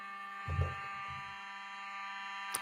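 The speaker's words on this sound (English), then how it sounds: "This alarm has been going." A continuous electronic alarm drones steadily with a buzzing, multi-tone hum, moderately loud, while a brief low thump and a short sharp click break in.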